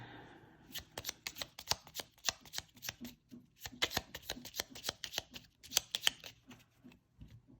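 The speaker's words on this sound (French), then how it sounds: "commençons par voir avec le tarot de Marseille à la coupe" Tarot de Marseille deck being shuffled and cut by hand: rapid, crisp card riffles and slaps in an irregular run of bursts, close and clear with no talking.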